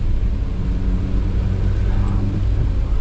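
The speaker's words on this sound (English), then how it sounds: "Cruising in 5th gear, pretty much just idling around." Small 1998 Subaru Sambar van engine cruising steadily in fifth gear, a continuous low droning rumble with even road noise and no change in pitch throughout.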